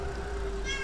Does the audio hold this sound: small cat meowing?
yes